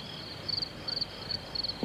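Insects chirp in summer heat, with short high-pitched pulses repeating in clusters at an even rhythm, faint and steady over a quiet background.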